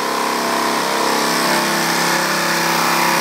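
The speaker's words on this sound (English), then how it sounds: "Okay, kill the engine." The small combustion engine of a hybrid bicycle runs steadily while charging its battery, a loud, continuous, buzzing drone with no talking over it.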